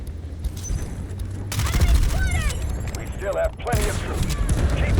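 Gunfire in the video game Delta Force crackles in dense, rapid bursts with booming hits, while people talk excitedly over the shooting.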